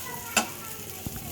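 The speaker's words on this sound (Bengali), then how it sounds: "এখন আমি একসাথে দিয়ে দিচ্ছি সব কিছু, মানে রসুন, পেঁয়াজ, মরিচ একসাথে দিয়ে এটা ভালো করে ভেজে নিচ্ছি।" Dried fish frying with garlic, onion and chili gives a soft, steady sizzle, broken by a sharp click of a stirring utensil and a faint scrape.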